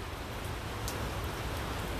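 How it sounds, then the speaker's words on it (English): Steady rain falls outdoors, a broad, even hiss of drops with no pauses, fairly soft and constant throughout. "Look, rain don't hurt nobody"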